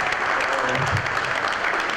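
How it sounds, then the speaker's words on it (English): Crowd applause at a union gathering, a steady wash of clapping that holds at an even level throughout the two seconds with no break. "Let me give yourself a big round of applause"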